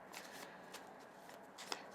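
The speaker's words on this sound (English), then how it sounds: "I'm just gonna shuffle a little more" Tarot cards being shuffled by hand, a soft, close run of riffling and rustling flicks with a quick sharper snap near the end, quiet and uninterrupted by talk.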